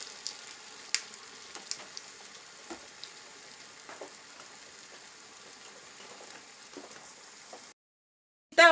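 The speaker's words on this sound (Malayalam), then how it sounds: "ഇത് ഉണ്ടാക്കി വെച്ചിരിക്കുന്നത് ഓരോന്നും നമുക്ക് അതിലേക്ക് എണ്ണയിലേക്ക് ഇട്ട് കൊടുക്കാം." Kuzhalappam, a rolled Kerala snack, frying in hot oil: a steady, dense crackling sizzle with scattered louder pops runs for several seconds, then cuts to silence before a brief sharp noise at the very end.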